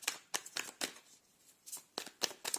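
Tarot cards being shuffled and drawn during a reading, a series of soft, quick riffling and flicking bursts in short clusters with brief pauses, close up and quiet, no voice.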